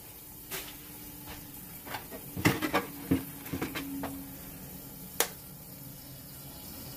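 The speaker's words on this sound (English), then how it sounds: "we're gonna crack some eggs." Eggs are cracked into a pan for a New York style sausage, egg and cheese sandwich, heard as several sharp taps and cracks with light wet splatter, fairly close, without speech.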